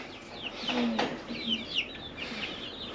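Chickens cluck and chatter continuously at a poultry shop, a busy layered flock sound close by with overlapping calls and no talk.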